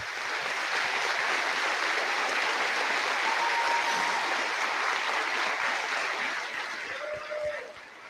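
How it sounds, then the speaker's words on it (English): An audience at a high school Veterans Day assembly gives veterans a sustained round of applause, with thick, even clapping that runs for several seconds before tapering off near the end. "can guys give you a round of applause like you deserve"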